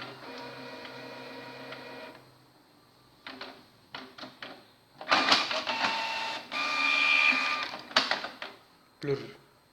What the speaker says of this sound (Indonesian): Kita akan coba print ini sedikit saja ya tulisannya untuk tes saja.